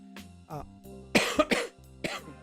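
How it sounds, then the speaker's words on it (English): Several close coughs and throat-clearing sounds from a cold come in short bursts, separated by brief pauses, with no words spoken. "I'm still getting over a cold, so if you hear me coughing, you know why."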